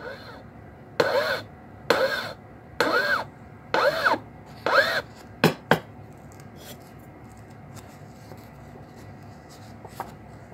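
Hand file strokes on a brass pyramid workpiece, about five rhythmic rasping passes close up, followed by a few sharp taps and then near silence.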